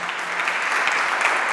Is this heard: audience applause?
yes